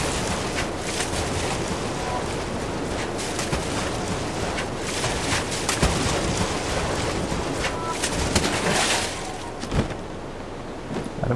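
A waterfall in the video game The Legend of Zelda: Breath of the Wild roars in a steady, loud, broadband rush of falling water that persists throughout with little variation.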